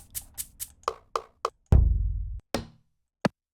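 A sequence of short, crisp percussive hits with a shaker-like rattle, spaced irregularly, with one longer buzzy swell in the middle.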